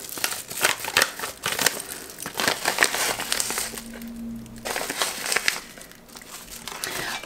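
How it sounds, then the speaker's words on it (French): Plastic sachet of dried oregano crinkling and crackling as it is torn open in a kitchen, a run of close, irregular rustles with a brief pause midway. "J'ai horreur de ces sachets, j'arrive jamais à les ouvrir."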